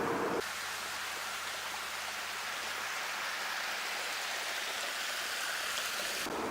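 Small creek flowing a few hundred metres from a highway in Alaska, a soft, steady rushing and trickling of water that stays even and fairly faint throughout, with no voices.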